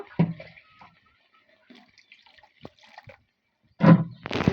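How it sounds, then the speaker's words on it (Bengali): Water poured into a pan of cooking small sea prawns: a short splash at the start, quiet handling sounds, then a louder gush of pouring near the end. "আমি এবার একটু পানি দিয়ে দিব"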